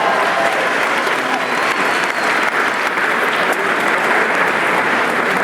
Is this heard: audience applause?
yes